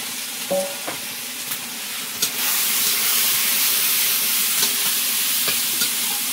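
Spice masala fries in a pan with a splash of water, a steady loud sizzle and steamy hiss with a few soft stirring clinks, heard close up without speech.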